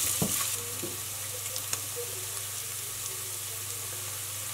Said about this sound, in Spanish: Y ahora le vamos a agregar la almeja y el caldito.